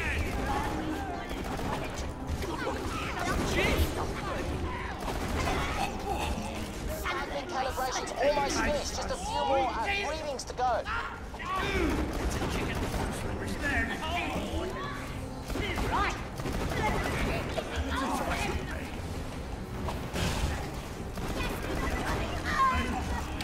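Turret gunfire in Borderlands: The Pre-Sequel, a dense, continuous clatter of automatic fire and fusillades with crashes and game chatter mixed in, steady and loud throughout.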